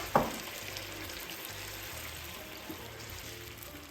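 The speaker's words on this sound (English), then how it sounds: "I'll give it a little quick stir." Chicken sauce sizzles in a frying pan while a spoon gives it a quick stir, a steady close hiss with a sharp clink at the start and faint scraping after.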